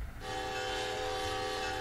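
Sustained horn blast from an NEC commuter train in the Train Sim World game near Secaucus Junction, a loud steady multi-tone chord held for nearly two seconds over rail rumble, no talking.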